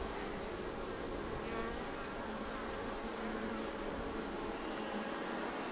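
A dense swarm of honey bees hums continuously during a beginner hive inspection, a steady, close, fairly loud buzz with no pauses and no voices.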